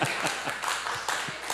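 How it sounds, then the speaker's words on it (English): A church congregation claps during a sermon, a short run of scattered, uneven hand claps at moderate distance with no voices over them. "You can clap."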